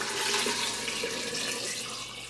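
Tap water pours steadily into a container for making apple cider vinegar, a continuous splashing, rushing flow that stays close and fairly even throughout, with no talking.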